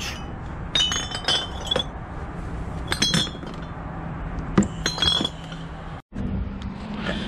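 Old glass bottles, including black glass, clink and knock together as they are handled, with a series of sharp, close chinks and scrapes scattered irregularly over a quiet room background.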